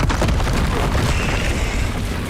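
Spell explosions from Confringo and Bombarda in Hogwarts Legacy, heard as a dense, continuous roar of loud booming blasts that overlap without a break.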